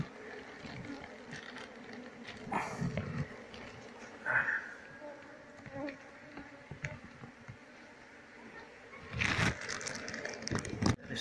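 Honey bees buzz around hive comb as it is sliced away during a colony transfer, a low, steady droning hum with occasional scraping and handling noises and brief louder bursts nearby.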